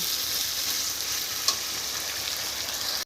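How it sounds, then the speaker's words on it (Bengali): Chicken with spices stirred in a hot frying pan, a steady hissing sizzle throughout with a brief scrape of the utensil midway and a small clatter at the very end, close and fairly loud. "মশলাটা দিয়ে দেবো, এখন দিয়ে দিয়েছি, এখন নাড়িয়ে নেব"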